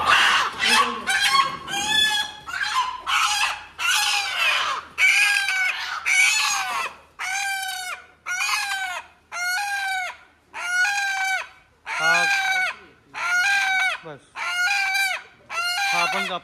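A village rooster at a rural dhaba crows loudly and repeatedly, a string of close, harsh, rhythmic calls about a second apart with clucking mixed in.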